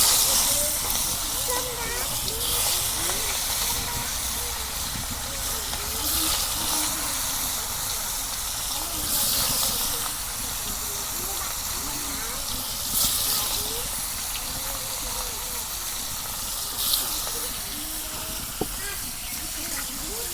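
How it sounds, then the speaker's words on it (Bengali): Pangas fish pieces sizzle and hiss steadily in hot oil, a dense, continuous frying noise with occasional sharper crackles, while a voice talks over it at times. "তেল গরম হচ্ছে, এখন আমি মাছ ভাইজা নেব"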